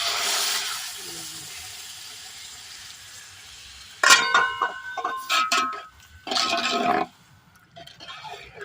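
Boiled hot water poured into a pan of oil and crushed peanuts, producing loud close bursts of splashing, hissing sizzle after a quieter stretch, alone with no talk.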